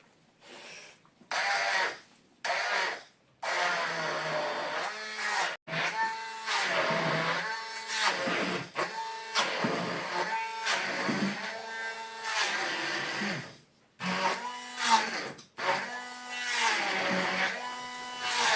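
An electric mixer whisks a glazed curd bar mixture, a high buzzing whine that runs in bursts and stops several times, its pitch shifting as it works.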